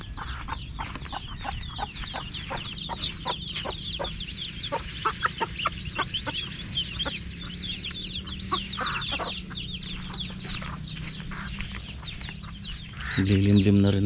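Hens cluck steadily at close range in a farmyard, one of them a brooding hen, with overlapping chatter-like calls running throughout and a brief low thump near the end.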